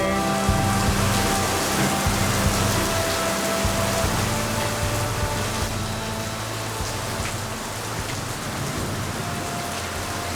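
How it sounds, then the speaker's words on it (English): Steady rain falls outdoors at a summer convention loadout, a dense, even patter of drops on surfaces continuing for about ten seconds without voices. "It's been so hot all weekend, and now finally it's raining."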